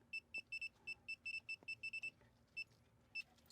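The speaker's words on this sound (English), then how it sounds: "You got just one beep at a time." Short high-pitched electronic beeps from a circuit breaker finder come in quick, uneven bursts, some clustered in rapid pairs and triplets, then spacing out near the end, close by in a quiet room.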